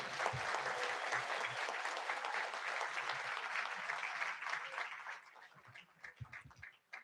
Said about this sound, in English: How about another round of applause for our MSF graduates?